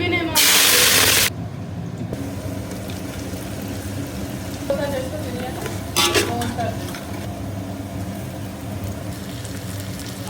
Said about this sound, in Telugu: అల్లం పేస్ట్ పచ్చి వాసన పోయేంత వరకు బాగా వేడి చేసుకోవాలన్నమాట.